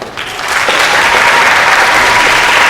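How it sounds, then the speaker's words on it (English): Audience applause for team Young Money at a school English competition at Vajiravudh College, dense clapping that swells within the first half second and then holds loud and even. "Please give a round of applause to Young Money."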